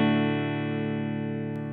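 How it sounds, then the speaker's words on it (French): A Telecaster electric guitar played clean with no reverb: a single sustained chord rings loud and steady, slowly decaying over its full length with no other sounds. "ma Telecaster en clean sans réverb."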